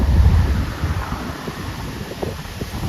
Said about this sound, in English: Oh god, it is windy.